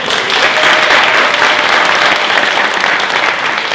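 A concert audience at a music school's student show applauds loudly, a dense, even roar of clapping that fills the space throughout without letup.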